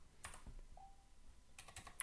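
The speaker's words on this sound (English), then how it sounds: "I'll just complete the typing." Computer keyboard typing at a desk during a software demo, a few soft close keystrokes in two brief bursts with a quiet pause between.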